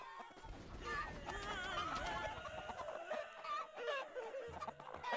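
A flock of chickens clucking and crowing in the battle game TABS, a busy, continuous chorus of fowl calls with an occasional whinny-like squawk, moderately loud throughout.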